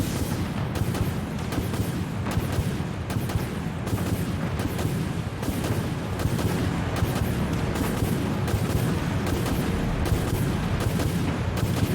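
A nuke detonates in a naval warship battle game, a dense, loud, continuous roar of rumbling blasts and crackling gunfire that fills the whole stretch without letting up.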